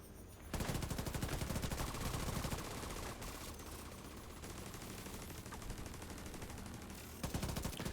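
Dense automatic gunfire from strong weapons in The Division 2, hardcore mode, rattling loud and near in sustained bursts for most of the stretch, with a brief pause just before the end and then more shots.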